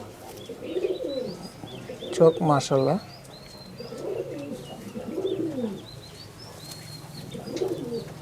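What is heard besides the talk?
Madrasi Kalanka pigeons cooing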